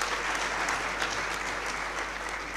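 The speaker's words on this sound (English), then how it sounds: "Can we give them a big round of applause?" An audience at a launch ceremony applauds a choir, with steady, even clapping filling the room at a constant level throughout.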